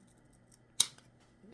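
A single crisp snip of scissors cutting greenish grizzly-toned feather fibres for a pike and muskellunge fly, close and sharp, with quiet room tone around it.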